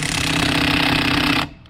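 A Harbor Freight Earthquake XT 3/4-inch impact wrench tightens a fastener in a loud, close, rapid hammering burst that lasts over a second and then stops abruptly.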